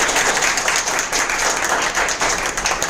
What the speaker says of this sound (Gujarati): તાળી એમના માટે.